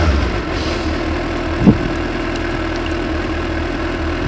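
A 2015 Suzuki GSX-S 750 motorcycle engine idles quietly at low revs, a steady low rumble that carries on alone with one brief bump partway through.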